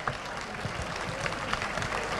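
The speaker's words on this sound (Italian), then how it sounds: "Un applauso di cuore a Carmelo bravo" Audience applause in a studio setting, an even, moderately loud stretch of many hands clapping with a soft crowd murmur and no clear speech.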